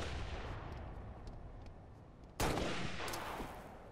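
Mobile turret firing in an online shooter game: a steady rattle of distant gunfire with a sharp, louder burst partway through, then continued crackling shots, no talk over it.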